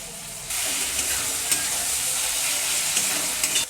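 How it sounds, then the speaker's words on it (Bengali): Onions sizzle steadily in a frying pan for an Echor curry, with a few clicks and scrapes of a spoon stirring them; close, continuous frying noise, no talk. "পেঁয়াজটা হালকা করে ভাজা হয়ে গেছে"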